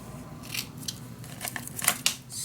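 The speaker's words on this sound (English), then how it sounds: "So I'm gonna cut this off." Scissors snip through white paper trimmed from a scrapbook mini album page, a few crisp separate cuts spread over a couple of seconds, close and fairly quiet.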